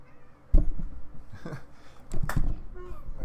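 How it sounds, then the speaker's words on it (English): A house cat lets out a few short meows close by, interspersed with someone speaking quietly. "Cat coming to say hello."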